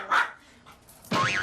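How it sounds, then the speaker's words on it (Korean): A pet dog indoors at home barks loudly and close by at a visitor entering the room, two sharp bursts of barking separated by a brief quieter gap. "누가 왔길래 이렇게 짖고 그래?"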